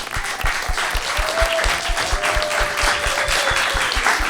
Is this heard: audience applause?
yes